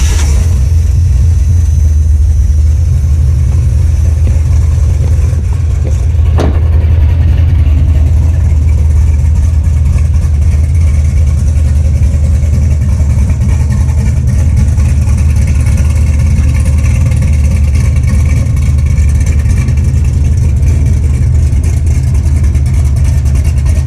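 LS-swapped 5.3 V8 in a Dakota with a BTR Snotty camshaft and Holley setup, idling loud and close with a deep, continuous low rumble that holds steady for the whole stretch.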